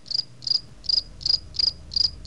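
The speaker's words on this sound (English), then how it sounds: "Crickets." Crickets chirp as a sound effect, seven evenly spaced shrill trills repeating at a steady rhythm, clear and close against a quiet background.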